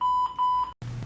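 An electronic timer in a tabletop card game beeps in a quick clipped run of tones, then cuts to silence before a lower buzzing tone sounds, fairly loud and alone.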